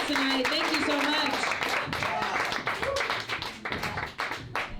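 Audience applause and cheering for the comedians at a live comedy show, a loud continuous wash of clapping with voices mixed in, tapering slightly toward the end.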